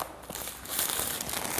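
Packaging of an anti-doping test kit crinkles and crackles as it is pried open by thumbs, a brief close, soft rustle with no talk.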